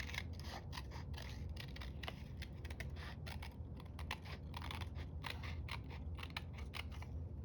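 Scissors trim paper for a December Daily Christmas craft project, a steady run of rapid close snips and crisp cuts with no talking.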